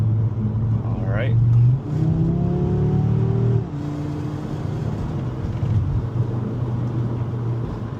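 An Audi RS3 drives along a rough, heavily bumped road, its engine revving up briefly then settling into a steady cruising drone with tire and road noise; a voice speaks over it partway through.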